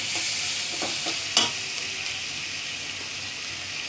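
Chopped garlic fries in a pan for fish head curry, a steady bright sizzle with a few soft stirring clatters and one sharper knock near the middle, no voices.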